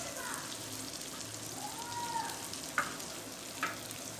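Reshmi kababs sizzle and fry in a pan with a steady crackling hiss, broken by a couple of sharp clicks as they are turned over; a voice is faintly present underneath.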